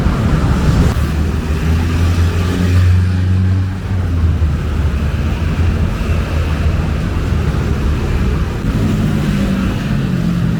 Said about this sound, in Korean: 오토바이 소리가